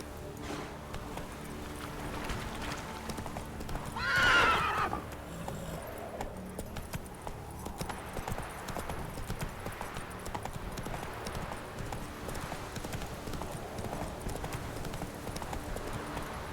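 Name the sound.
horse Roach galloping in video game The Witcher 3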